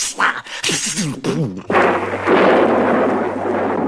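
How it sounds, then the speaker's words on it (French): A fierce thunderstorm with huge thunderclaps breaks out in a French storybook record. A narrating voice is followed by a sudden loud, sustained roar of thunder and rain that holds steady to the end. "éclate un terrible orage, déchiré d'éclairs, ponctué par d'énormes coups de tonnerre"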